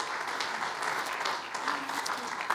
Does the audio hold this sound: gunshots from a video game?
no